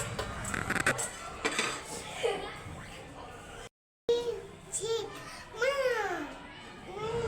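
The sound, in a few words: dishes being handled while preparing a child's plate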